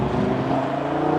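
An Audi RS3 engine hums and drones under load, a close, steady throaty tone with a slight rise in pitch over a brief moment.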